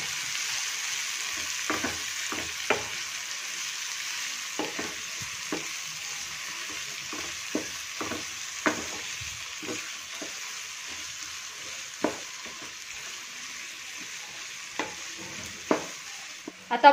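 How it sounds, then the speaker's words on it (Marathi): Onion, capsicum and tomato frying in a pan while being stirred, with a steady sizzle and a string of soft scraping stirs. "बारीक चिरलेला शिमला मिर्च, बारीक चिरलेला टोमॅटो, आणि हे छान आता आपण मिक्स करून घेणार आहोत."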